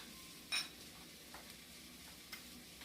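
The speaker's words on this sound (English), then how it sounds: "about 1 minute that I've been stirring my onions and my garlic" Onions and garlic sizzle quietly in a pan while being stirred, with a sharp metallic scrape near the start and a few soft clicks of the utensil.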